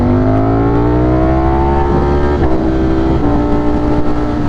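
A 200 hp motorcycle ridden on a morning commute, loud steady engine drone close up with a smooth rising pitch as it accelerates, no talking.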